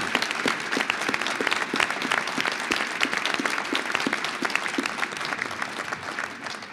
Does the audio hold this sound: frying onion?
no